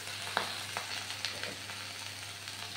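Leafy greens dropped into a hot frying pan with oil, a soft continuous sizzle with a few sharp crackles and stirring scrapes, fairly quiet and close, no talking.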